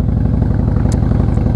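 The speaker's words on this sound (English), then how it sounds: "this bike is kind of loud. I got the, it's a 2016 Fat Boy with the big radius Vance & Hines exhaust" A 2016 Harley-Davidson Fat Boy with big-radius Vance & Hines exhaust idles close by, its loud, steady low rumble pulsing evenly throughout with a brief faint click partway.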